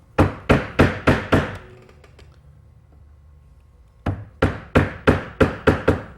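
A mallet strikes a chisel driven into wood across the grain, loud sharp close-up knocks in two rapid bursts of about six blows each, separated by a roughly two-second pause.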